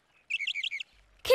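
A small bird gives a quick run of four or five bright chirps, close and clear, followed by a brief sharper call.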